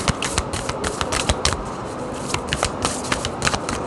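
A Starseed Oracle card deck is shuffled by hand, a steady, close run of crisp riffling flutters and card slaps, loud and continuous, with no talk.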